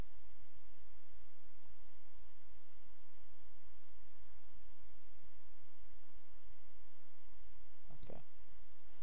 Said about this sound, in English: So yeah, it is a lot of clicking